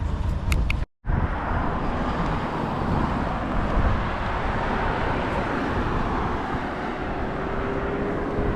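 Car driving along a road in Nadi, Fiji, heard from inside as a steady loud rumble of engine and tyre noise that holds unbroken after a brief cut near the start.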